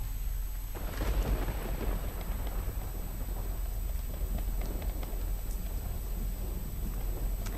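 Heavy monsoon downpour with thunder over Valsad district, a dense steady roar of rain with low rumbling throughout, loud and continuous with no voices.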